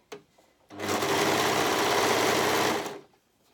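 Sewing machine stitching the seam of a lounge sweatshirt, running in one steady, loud burst of about two and a half seconds after a brief quiet start, then stopping.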